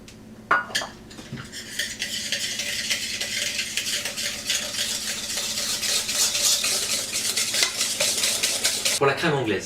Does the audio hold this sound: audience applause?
no